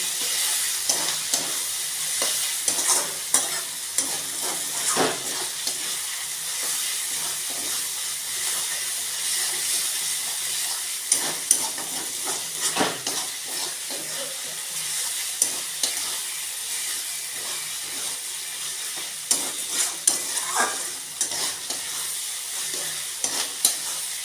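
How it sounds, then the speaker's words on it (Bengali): A steady sizzle of food frying in hot oil in a pan, broken by repeated scraping and stirring strokes over about twenty-four seconds, close and fairly loud with no talking. "হালকা একটু নাড়াচাড়া করে আমি চিকেনটা দিয়ে ফেলবো।"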